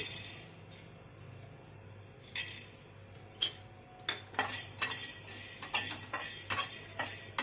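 Cloves and black peppercorns dry-roast in a pan for mango pickle, giving faint sizzling under light, repeated metallic scrapes and clinks of a spoon stirring against the pan.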